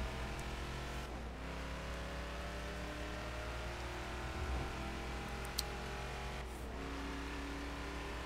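A Ford Mustang King Cobra muscle car driving in Forza, its engine a steady, sustained drone at cruising revs with a couple of brief gear-change dips, no talking.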